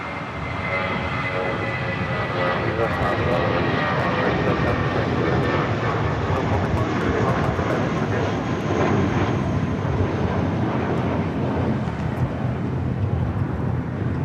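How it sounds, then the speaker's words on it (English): A Viva Aerobus Airbus A320 jet on flight 511 to Guadalajara roars loudly and steadily at LAX, a broad continuous engine rumble without voices. "That was Viva Flight 511 heading to Guadalajara A320"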